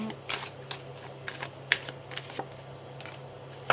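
Oracle cards being shuffled and drawn by hand for a three-card reading: a run of crisp, close riffling snaps and slides, irregularly spaced, with no talking over them.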